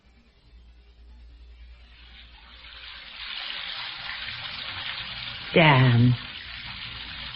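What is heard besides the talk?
running water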